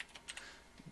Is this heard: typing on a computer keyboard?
yes